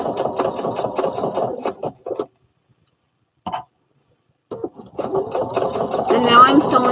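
A sewing machine runs nearby while seams of McCall's 7464 overalls are sewn together, its hum sitting under a person talking, cut by a brief pause before it picks up again with the voice.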